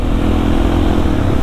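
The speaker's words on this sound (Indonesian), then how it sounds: "Motor idaman ini mah. Motor impian. DRZ 400." A Suzuki DRZ 400 supermoto, a 400 cc motorcycle, runs with a loud, steady engine roar close by, a brief continuous burst with no voices.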